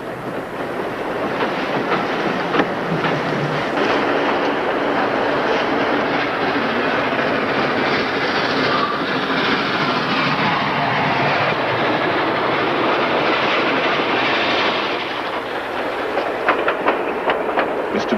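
A train rumbles steadily along the tracks, with a constant roar and rhythmic clatter of wheels, loud and close throughout.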